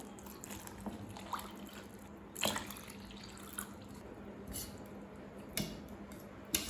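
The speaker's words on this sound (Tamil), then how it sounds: "2 கப் தண்ணி சேர்த்துக்கலாம்." Water pours steadily into a bowl of cornflour for Bombay halwa, a soft continuous splashing close by with a few brief clinks and drips, no talking.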